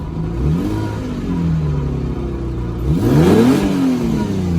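An Infiniti G35 car engine runs unevenly nearby, its pitch rising and falling as it revs and surges roughly, with no talking.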